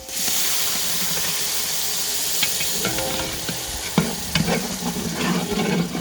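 Ground tomato paste sizzles and fries in a pan for chicken biryani, a steady hiss with scraping stirs and small clatters against the pan.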